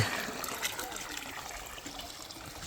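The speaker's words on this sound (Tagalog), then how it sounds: "Itong kanilang water source mga kap. Gaano kalakas." Water flowing steadily from a mountain water source, a continuous close trickling and splashing rush at moderate level.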